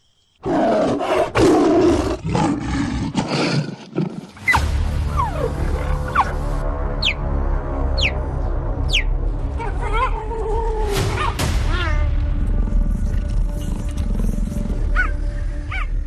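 A lion roars loudly and close, in a long series of deep, powerful calls that rise and fall with brief gaps, ending in grunting breaths.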